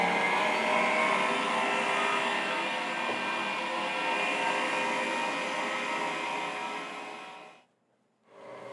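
An electric whisk whirs at full speed, beating meringue with sugar, a steady loud motor drone that drops out briefly near the end and then resumes.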